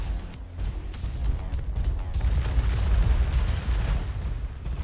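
Heavy, rumbling blasts from Vortex weapons strike the player in a mech combat video game, a dense continuous roar of low booms and bursts rather than distinct single hits, loud throughout.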